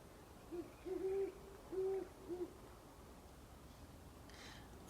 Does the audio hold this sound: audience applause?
no